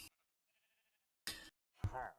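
Sheep in Minecraft bleating in short bursts, a faint one followed by a louder cry, with a voice talking nearby.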